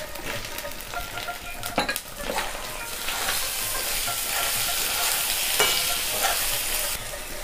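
Loud, continuous sizzling of tomatoes frying in a hot pan with a few sharp scrapes and clinks as they are stirred.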